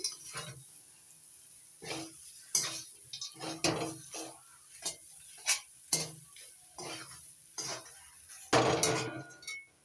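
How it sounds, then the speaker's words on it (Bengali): Fried peanuts are stirred in a pan while making samosa filling, with a series of separate scraping and clinking strokes of a spoon against metal over a faint sizzle, close by, ending in a louder burst of rattling, with no speech. "ভেজে নেওয়া চিনে বাদাম নাড়াচাড়া করে নিচ্ছি"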